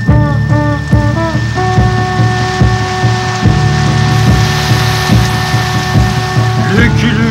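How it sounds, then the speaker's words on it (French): Cartoon rain falls as a steady loud hiss throughout, with sustained musical tones layered over it and a few short accents near the end. "Maintenant, la pluie va venir et va éteindre le feu."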